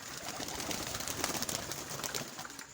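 Pigeons kept on a rooftop perch coo softly in a continuous low murmur, close by and with no talking.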